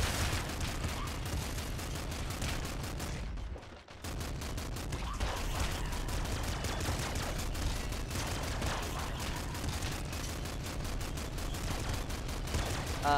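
Gunfire in the video game Nuclear Throne, with enemies shooting at a shielded foe: dense, continuous rapid shots and blasts packed into a steady roar, dipping only for a brief moment near the start.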